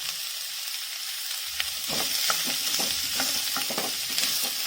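Onions sauté in a pan for Chettinad onion kosu, a steady sizzle running throughout; after a short pause, repeated scraping stirs of a spoon begin and continue close by at a brisk, uneven rhythm.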